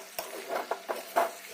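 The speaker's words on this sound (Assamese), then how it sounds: "এতিয়া অলপ সময় গেছটো ল' ফ্লেমত দি পেলাই এনেদৰে মাংসখিনি ভাজি থাকিম" Meat being stirred and fried in a pan for a spiced Assamese meat curry with garlic, chili, cloves and cardamom: several short scraping stirs in a quick irregular rhythm, close and moderately loud, over a soft steady sizzle.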